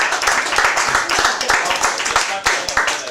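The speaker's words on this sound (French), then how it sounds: "Applaudissez-nous" An audience at an evening cabaret-style show applauds the performers with loud, dense, irregular clapping sustained throughout, sharp close hand claps standing out, with voices speaking beneath.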